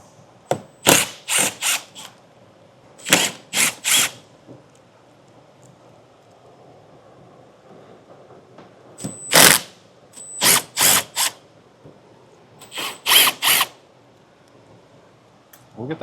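Power drill or driver backing five T15 screws out of the wheel well liner of a 2022 Chevrolet Equinox, heard as several short bursts of whirring, close and loud, grouped in twos and threes with quiet gaps between.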